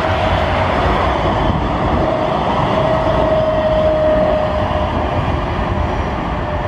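Skoda trams rolling through a city street, a steady loud rumble with rail noise and a faint wheel squeal running throughout, no talk.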